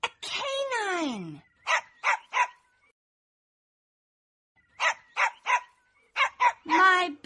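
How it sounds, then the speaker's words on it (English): A dog barks in two bursts of short, sharp yips, quick rhythmic clusters of three or four separated by a pause, close and fairly loud, with a falling whine-like cry at the start and a longer yelp at the end. "I want something with fur, a pet who will follow. Oh, wait, I know. A canine."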